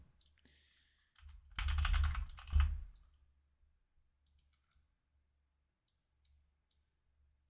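Keys clatter on a computer keyboard in one short, busy burst of typing for about a second and a half, then stop. A long quiet stretch follows with only faint scattered clicks.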